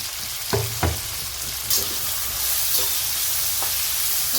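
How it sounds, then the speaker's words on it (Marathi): Coarsely crushed garlic and tomato sauté in a pan with a steady, fairly loud sizzle and hiss, broken by a few stirring scrapes and knocks close by, with no talking. "याला लसण टाकलाय ना तर चांगलं अजून एकदा परतून घेऊ"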